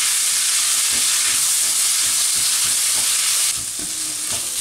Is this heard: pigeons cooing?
no